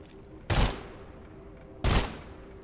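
Gunfire in the video game Sulfur sounds as two separate loud, short bursts of rapid shots, each about a quarter second long and cut off sharply, over a quiet background.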